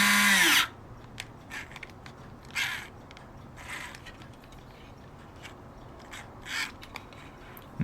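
A small, low-torque electric drill whirs loudly for a short burst while boring a pilot hole in a model ship. Quiet handling clicks and taps follow.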